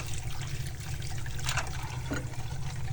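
Water runs and splashes steadily, rinsing metal residue off Hot Wheels car parts; a continuous close trickling wash with a low rumble underneath and no voices.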